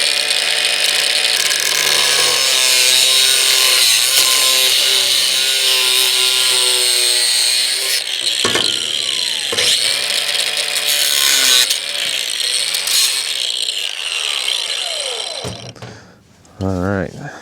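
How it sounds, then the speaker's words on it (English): An abrasive cutting wheel grinds through metal on a DIY coyote trapping tool, a loud continuous high-pitched screech with brief pauses and pitch shifts, fading out as a voice speaks at the end. "we'll cut this off with abrasive wheel here real quick"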